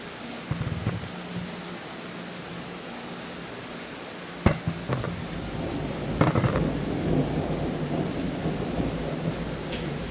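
Steady rain falls on a surface, with thunder in a storm. A continuous hiss of rainfall runs throughout, broken by a few sharp cracks of thunder near the middle and low rolling rumbles afterward.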